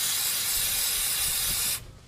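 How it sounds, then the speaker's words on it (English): Brake cleaner hisses from an aerosol can in a strong continuous spray onto a Ford brake caliper hose fitting. The spray is loud and close and cuts off abruptly near the end. "I actually clean this off with some brake clean, spraying down the way"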